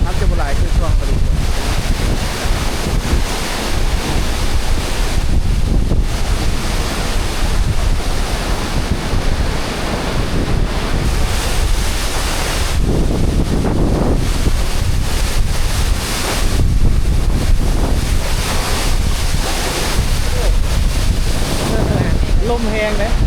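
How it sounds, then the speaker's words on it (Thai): Strong wind gusts buffet the microphone beside a waterfall in the rainy season, with steady roaring rush of falling water and wind noise filling the whole stretch, loud and continuous. "ลมแรงเด้"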